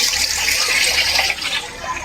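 Water gushes and splashes steadily at a mountain resort, flowing strongly out of a pipe or outlet, loud and close, with no voices over it.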